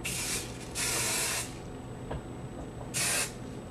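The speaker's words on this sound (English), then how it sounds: "I'm going to add a little bit of hairspray to the top part of my hair." Hairspray sprayed from an aerosol can onto the top of the hair, three close, loud hissing bursts separated by short quiet gaps.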